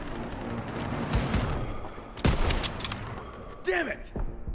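Gunfire in a Call of Duty WWII battle near an anti-aircraft gun in a courtyard: repeated rifle and machine-gun bursts with a heavy blast near the middle, over constant battle din, with shouted voices near the end.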